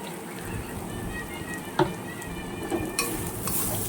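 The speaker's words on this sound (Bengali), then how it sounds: "এবার এটাকে আমি ভালো করে নাড়তে হবে, পুরো লাল লাল হয়ে যাবে।" Chili and turmeric powder fry in a pan while a spoon stirs them, a steady close sizzle broken by a few scraping clicks of the utensil, with a louder burst of crackling near the end and no talking.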